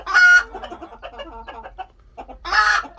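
Dwarf Cochin chickens clucking nearby, with two loud squawking calls at the start and end and softer clucks scattered between them.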